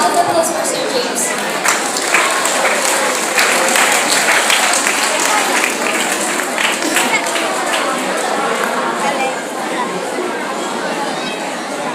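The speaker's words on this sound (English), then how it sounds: "Please give a round of applause for Sir James." Students and staff at a Teachers' Day school event applaud a guest, the clapping broad and sustained, mixed with crowd murmur and scattered cheering throughout.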